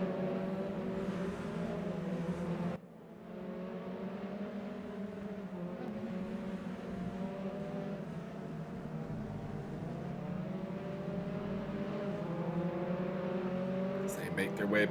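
Mazda MX-5 race cars at Circuit de Charade, engines droning steadily with shifting pitch as they pass, heard beneath continuous race commentary, with a brief dip in engine noise early on.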